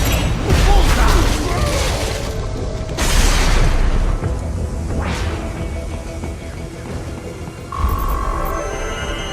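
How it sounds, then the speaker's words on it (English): In Metal Gear Rising: Revengeance, an RPG launches with a rushing whoosh and bursts into loud, booming explosions, layered over dense mechanical clatter and roaring battle noise throughout. "Firing RPG!"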